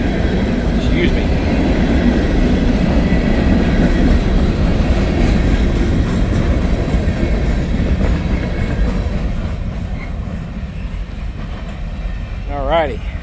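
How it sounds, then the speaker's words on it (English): A Buckeye Freight Rail freight train rolls past on the tracks. Its loud, steady rumble and wheel clatter fill the whole stretch and ease slightly toward the end, where a horn-like tone rises. "There's Buckeye Freight Rail right there."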